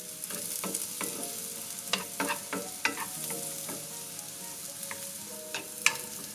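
Food sizzles and crackles in hot oil in a pan, with bursts of stirring and scraping throughout. It is close and steady, with no speech.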